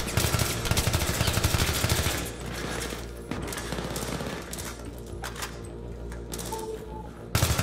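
Rapid automatic gunfire in Battlefield 3 co-op combat, dense bursts of machine-gun shots that ease into steady battle noise and then return in a loud final burst.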